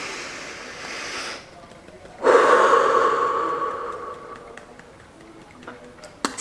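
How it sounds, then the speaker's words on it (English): A deep inhalation followed by a long, audible exhale during a relaxing meditation and tapping session, close and breathy, with the exhale trailing off slowly into quiet. "take a deep breath"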